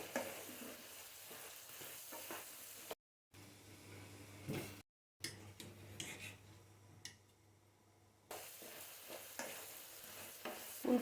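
Three medium potatoes fry in a pan of cooked-down spices, stirred with scraping strokes; a close, steady sizzle and hiss is broken by two short silent gaps.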